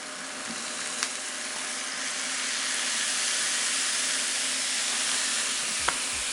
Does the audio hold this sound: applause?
no